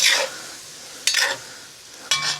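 Beef sirloin stir-fries in a cast iron wok: three sharp metallic scraping strokes of a utensil over a low, steady sizzle, close and fairly loud.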